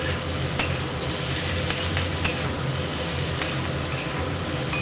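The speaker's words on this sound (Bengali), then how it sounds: "কিছুক্ষণ আমি ভেজে নেব।" Vegetables fry in a pan for a Bengali vegetarian curry with lentil dumplings, giving a steady, close sizzle broken by a few sharp clinks from stirring.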